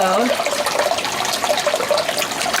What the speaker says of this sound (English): that water coming out of that little hose is like 185 degrees, it says